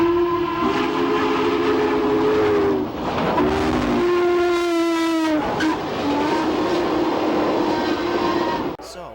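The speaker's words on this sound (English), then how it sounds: "765 was fitted with an N&W hooter whistle from an A-class articulated locomotive" Steam locomotive 765's deep, chime-like Norfolk & Western A-class hooter whistle sounds in long sustained blasts, briefly interrupted, over the rumble of a train.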